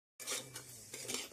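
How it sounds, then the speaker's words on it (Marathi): Semolina for jaggery lapshi roasting in a large kadhai on a wood stove, stirred with a metal spatula: scraping, clinking strokes against the pan come in a quick, uneven rhythm, close and fairly loud with a light sizzle beneath. "मोठी कढई ठेवलेली आहे आणि आता छान असं गरा भाजून घ्यायचं चाललेलं आहे"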